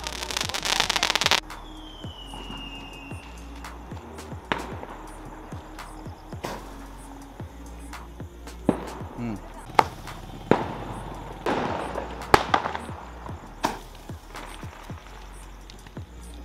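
At a Diwali celebration, a palm tree firework cracker bursts with an opening hissing whoosh, followed by scattered sharp pops and crackles heard from a short distance.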